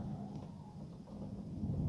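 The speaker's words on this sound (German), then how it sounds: "Nur ein bisschen Blitz und Donner!" Thunder rumbles during a storm near Wismar, Dorf Mecklenburg, where a tornado passed; a low, continuous roll that stays loud throughout and swells toward the end, with possible rain noise mixed in.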